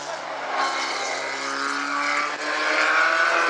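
Midget race car on a qualifying lap at South Sound Speedway, exiting turn four, its engine a steady loud drone with rising harmonics throughout, close and continuous with no talk.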